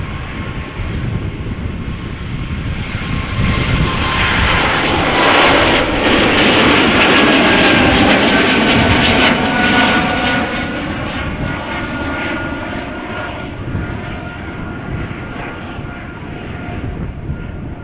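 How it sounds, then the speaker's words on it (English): An Air Baltic Airbus A220-300, about a year old, rolls at Amsterdam Schiphol Airport with a loud, steady jet-engine roar and whine that swells in the middle and eases slightly toward the end. "Got the next airplane moving already, going to Riga, Air Baltic, flight 618, A220, 300."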